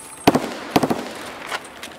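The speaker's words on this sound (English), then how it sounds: "he threw a grenade" In a first-person shooter game, a grenade goes off as two quick, sharp explosive bangs close together, with crackling debris after each and a fainter pop trailing behind.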